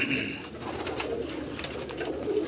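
Rampuri pigeons coo on a Karachi rooftop, soft repeated throaty calls near and fairly quiet over a low background murmur.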